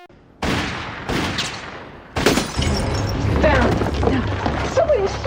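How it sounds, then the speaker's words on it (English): Gunfire in a Beauty and the Beast video game: sharp shots and crashes break out, then a dense burst of firing with shattering and smashing under loud mixed game noise and shouted voices. "Somebody's shooting!"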